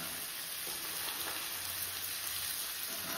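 Green peas hiss in a pan of frying masala, a steady close sizzle with faint stirring crackles and no speech over it.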